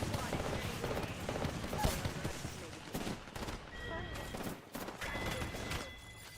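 Rapid gunfire bursts in a shooter game, dense repeated shots mixed with game effects and voices.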